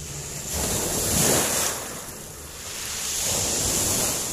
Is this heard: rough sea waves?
yes